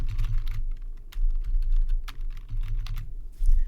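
Quick bursts of keystrokes clatter on a computer keyboard while an email is composed, close and crisp, with short pauses between runs of typing and no voices.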